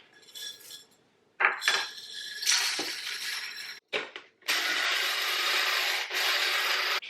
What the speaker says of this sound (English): and I'm going to grind it up.